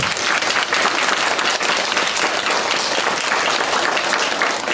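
Audience applause fills a school concert by first-year music students in Tomaszów Lubelski, a dense, steady wash of clapping from many hands throughout, close and loud, with no talk over it.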